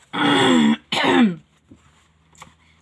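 A person clears their throat twice in quick succession, two loud rasping bursts close to the microphone, followed by small faint clicks and quiet.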